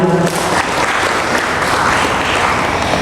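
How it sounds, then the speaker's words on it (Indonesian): Audience applause at an Islamic-themed talk show, dense and continuous, loud throughout with no speech over it. "Berikan tepuk tangan dulu dong."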